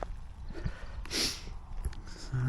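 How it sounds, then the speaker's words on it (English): Short nasal snorts and sniffs from a dog nosing around during an afternoon walk beside a freshly dug field on a fine winter day, a few brief puffs close to the microphone over light outdoor background noise. "she's sniffing at everything"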